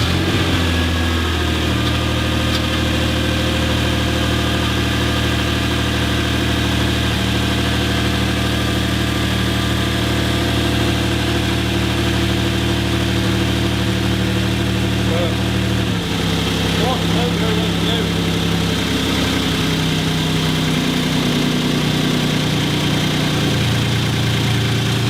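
Generator engine cranked over and running steadily, a loud continuous droning hum with a shift in pitch partway through as the load or speed changes, with voices in the background.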